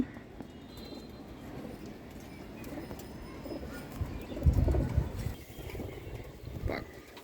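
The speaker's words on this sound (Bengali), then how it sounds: "এটা একটা খয়রা গলা প্যাটার্নের কবুতর দেখেন।" A brown-necked patterned pigeon kept at a home loft coos softly and steadily, with a louder burst of wing flapping midway and another brief flutter near the end, no voices present.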